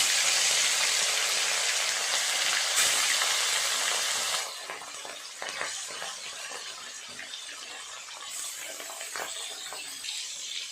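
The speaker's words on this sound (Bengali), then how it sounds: "তেল গরম হয়ে গেছে, মাছগুলো দিয়ে দেব।" Bhola fish pieces dropped into hot oil in a pan, a loud bright sizzle for the first few seconds that then settles into a softer, crackling fry.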